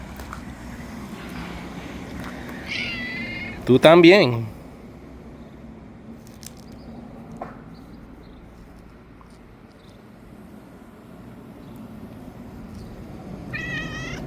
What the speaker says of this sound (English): Here's another one of their cats,